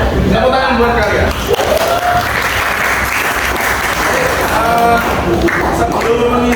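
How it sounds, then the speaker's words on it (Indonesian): Students applauding in a classroom, with dense, continuous clapping throughout and a few voices heard underneath. "Tepuk tangan buat kalian."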